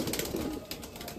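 Soft throaty cooing from a domestic tournament pigeon kept at home, a brief, low, rolling murmur heard up close that eases off slightly toward the end, with no voices.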